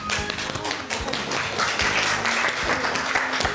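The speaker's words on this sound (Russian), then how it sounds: "Давайте под аплодисменты сделаем эти минуты еще ярче." An audience claps together as bouquets are presented to guests at an event, a close, continuous patter of many hands with some sharper individual claps and thumps running through the whole short stretch.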